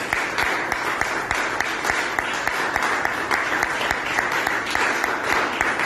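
A church congregation at a Sunday celebration service applauds steadily, with a full, even wash of clapping and some sharp, rhythmic claps standing out throughout.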